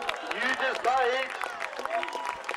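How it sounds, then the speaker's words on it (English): A crowd cheers and applauds at the finish of a race at the St Andrews Highland Games, a broad, steady roar of clapping and shouting that runs throughout under a commentator's amplified voice. "Give every one of them a huge cheer."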